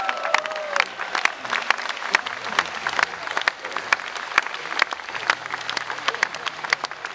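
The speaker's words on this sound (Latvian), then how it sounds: "viens uznāk un paņem visus aplausus" Audience applause at a memorial concert in Saulkrasti, a dense, steady wash of clapping from a large crowd that carries on for the whole stretch without letting up.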